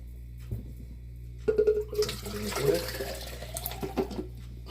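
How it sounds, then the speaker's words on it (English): A cup of water is swished to rinse loose glitter out of a snow globe, giving a brief close splashing and sloshing that swells after a quiet start and then trails off. "I'm going to take this cup, give this a little swish, in hopes of getting all of the glitter"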